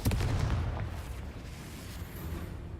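A Confringo fire spell blasts in the Hogwarts Legacy video game, a loud booming explosion that opens strongly, then fades into a rumbling low tail with no talking.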